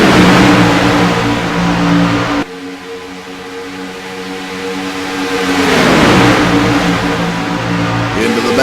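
Stock race cars roaring around Daytona International Speedway, loud sustained engine drone that dips briefly and then swells again as cars pass, with a commentator's voice over the noise.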